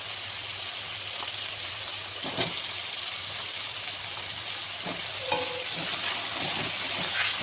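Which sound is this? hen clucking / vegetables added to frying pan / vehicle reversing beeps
vegetables added to frying pan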